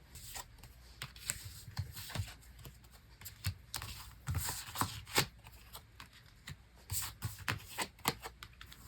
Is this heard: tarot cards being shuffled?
yes